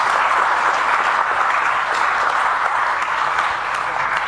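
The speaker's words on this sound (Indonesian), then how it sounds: "Nah, ini boleh tepuk tangan dong." An audience applauds during a political speech, a loud, dense and unbroken roar of clapping from a large crowd that holds steady throughout.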